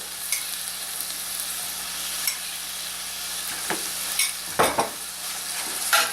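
Mushrooms that were sautéed earlier go into a pan of wine-braised riblets, giving a steady close sizzle with a few scraping stirs and clatters near the end, with no talking.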